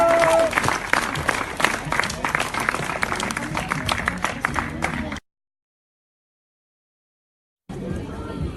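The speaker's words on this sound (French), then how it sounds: "Applaudissements s'il vous plaît." Crowd at a soapbox race in Switzerland claps for a racer, dense sustained applause with scattered voices, then a sudden cut to silence before brief ambient sound returns.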